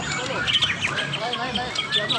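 Bright, varied songbird phrases of a white-rumped shama ring out at a songbird competition over a noisy crowd, with people talking loudly beneath the song.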